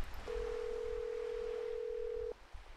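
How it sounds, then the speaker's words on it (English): A steady telephone dial tone from the Nancy Drew game Danger on Deception Island hums continuously for about two seconds over quiet background, then cuts off abruptly. "Let's call Bess and George first."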